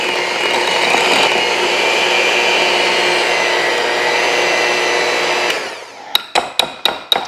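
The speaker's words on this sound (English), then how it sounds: "I've just been softening that up with my mixer" An electric hand mixer whirs steadily and loudly while creaming sugar and vanilla, then cuts off and is tapped several times against the bowl in a quick series of sharp knocks.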